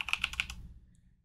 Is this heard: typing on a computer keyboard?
yes